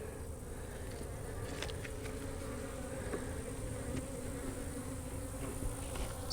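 Dense, continuous buzzing of many honeybees close by at a nucleus hive frame, a steady humming swarm with no voices.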